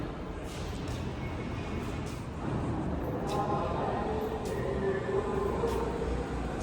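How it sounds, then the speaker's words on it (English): A subway train of the A line pulls into 181st Street station, a steady low rumble and rolling rail noise building and holding throughout, with a faint brake squeal rising midway. "the train to 207 is arriving"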